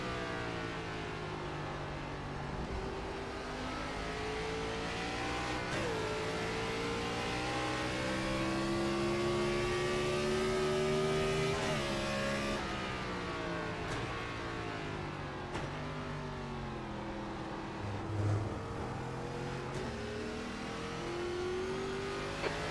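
A Gen 4 race car engine roars at Watkins Glen in iRacing, a continuous close drone that climbs and drops through the gears, with upshifts and engine bogging, loud and steady without speech.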